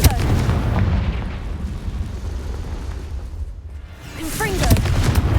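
Confringo fire spell in Hogwarts Legacy, a dense booming blast with crackling debris that swells, dips, then erupts again, with a brief spoken cue partway through.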